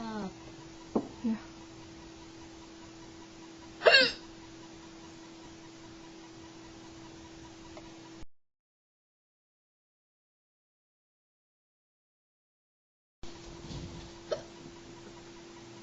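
Hiccups from a mother and her son: a few sharp, close, isolated hiccups break through faint background hiss. There is a long silent gap, then a couple more quiet catches.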